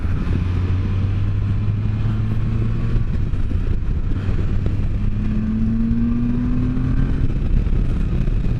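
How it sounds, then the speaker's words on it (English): A 2015 Can-Am Spyder three-wheeler gives a steady, close engine and intake drone while riding, with wind noise and a short rise in pitch partway through, and no voices. "The intake sound on this thing is just wicked."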